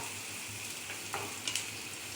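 Red weaver ant eggs frying in a pan, making a close, steady sizzle with a few sharper pops and crackles, no voices present.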